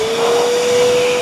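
A VEVOR pond vacuum cleaner running in blower mode, a loud, steady motor whine with rushing air that holds constant and close throughout, with no talking.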